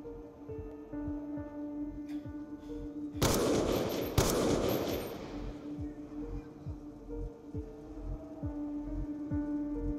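Two sharp, loud gunshot blasts from Call of Duty Black Ops 2 ring out a second apart with a noisy tail, over a tense music bed with rhythmic thumps.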